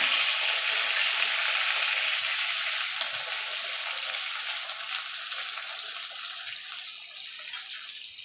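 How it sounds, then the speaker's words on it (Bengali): Brinjal pieces frying in oil, giving a loud, dense, continuous sizzle that stays close and steady throughout, slowly easing toward the end with no talking. "এই তেলে বেগুনগুলো ভেজে নেবো ভেজে তুলে নেব"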